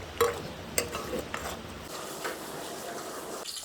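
Ginger, garlic and green chili paste being stirred in a pan with ghee, a spoon scraping and clinking in a few quick strokes over a faint, soft sizzle.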